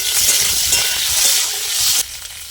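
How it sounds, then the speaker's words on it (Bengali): Potato, raw banana and drumstick pieces frying in oil in a wok, a loud, close sizzle with rhythmic spatula scrapes and knocks, dropping abruptly to a quieter hiss near the end. "এতে আমি এক এক করে আলু, কলা আর এই ডাটা দিয়ে দিলাম, নাড়াচাড়া করে দেবো।"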